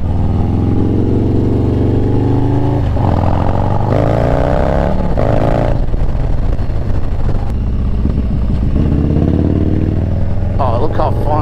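Harley-Davidson Softail Street Bob with a 114 engine and stage 2 tune, its loud, steady rumble running throughout and rising and falling with throttle, ridden on twisty roads while people talk over it.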